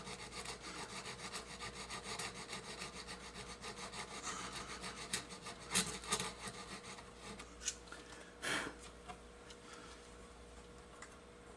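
A file rasps back and forth across a brass guitar nut on a Les Paul. The scraping strokes are quiet, close and fairly regular, with a few louder scrapes near the middle and no talk.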